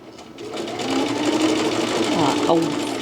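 A sewing machine stitching through denim while altering a pair of jeans, running in a steady rapid chatter that builds and holds close by, with a person talking over it.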